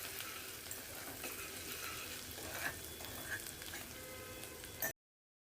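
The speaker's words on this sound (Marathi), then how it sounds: "हा जो बारीक कांदा एक चिरून घेतलाय तो घालायचा त्याच्यात" Finely chopped onion hits a hot pan for Malvani-style clam curry, giving a soft, even frying sizzle with faint scrapes, close and quiet, that cuts off abruptly near the end.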